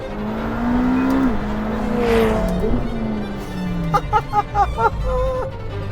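A McLaren 720S sports car engine drones and revs steadily for several seconds, then a voice briefly speaks over it near the end.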